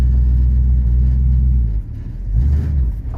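A 1969 Ford Mustang coupe's engine rumbles steadily, then sputters and drops off as if stalling, before briefly picking back up with a rough revving.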